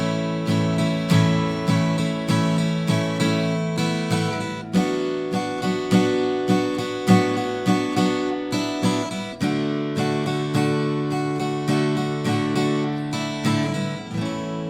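Steady strummed acoustic-style guitar chords playing the intro progression of a song, with a rhythmic up-down strumming pattern and small embellishments in the chord changes, close and alone without voices.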